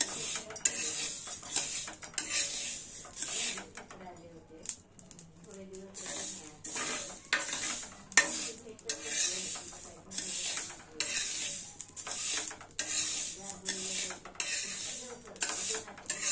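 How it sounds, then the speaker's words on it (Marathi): Mustard seeds roast in a pan for lemon pickle, giving a busy crackle of pops and scraping stirs, close up with faint voices in the background. "शीतल भाजत आहे मोहरी"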